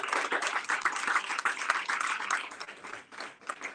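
Applause from an audience welcoming new members of a newly founded campus club, a dense, steady patter of many hands clapping that thins slightly toward the end.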